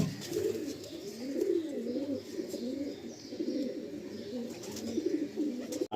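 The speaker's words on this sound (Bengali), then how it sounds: "আন্ধ্রা, আন্ধ্রা পায়রা" Andhra pigeons coo repeatedly in soft, rolling low calls inside a loft in Kolkata, close and steady with faint background noise.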